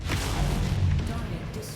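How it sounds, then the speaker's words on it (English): Missiles fired at an enemy mech in MechWarrior 5 land as a run of deep, rumbling booms and thumps, dense and continuous for a couple of seconds before easing off. "Throw some missiles in there on him."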